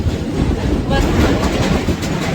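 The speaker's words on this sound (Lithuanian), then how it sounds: "metro važiuoja" A New York City metro train rolls past near the Brooklyn Bridge with a loud, continuous rumbling roar and rhythmic wheel clatter that swells slightly toward the middle before easing.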